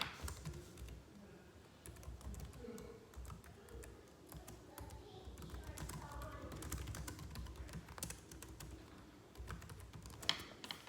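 Quiet, close typing on a computer keyboard, an irregular patter of light key taps running throughout with brief pauses and no talking.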